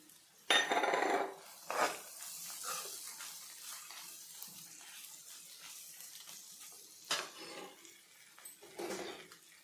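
Ridge gourd vangibath with bath powder and fried cashews is stirred in a pan, giving a few clattering scrapes of a ladle against metal between quieter stretches of soft stirring, with no speech.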